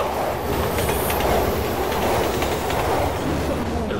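Metro train in Resident Evil 6 rushing past close by, a steady loud rumble with rapid clickety-clack of wheels on rails throughout, no one speaking.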